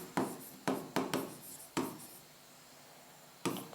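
Marker strokes on a board while a refrigeration cycle diagram is labeled, a handful of close, short scratchy strokes in an irregular rhythm with a gap before the last one.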